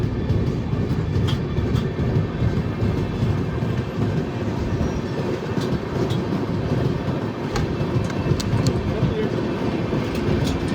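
A long-distance passenger train from Haridwar to Mumbai heard from inside a 3rd AC coach, with a steady loud rumble and faint clicking of the wheels running continuously throughout.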